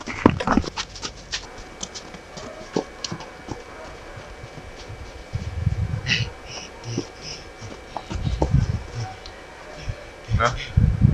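A dog panting and moving about close by, with quick breaths, scrabbling steps and faint whimpers, while people talk over it in a homely setting near a sauna.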